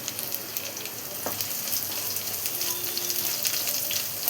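Curry leaves hit hot oil with browned onion and garlic, giving a bright, crackling sizzle that holds steady and close for a few seconds, with a faint spoon knock and no talking.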